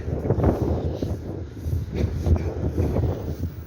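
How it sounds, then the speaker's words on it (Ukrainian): Cold, frosty wind buffeting a microphone outdoors, a low rumbling roar that swells and fades in gusts, with no talking. "Такий вітер просто взагалі як приморозок."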